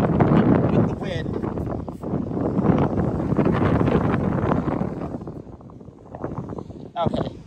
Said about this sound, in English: It's actually that windy.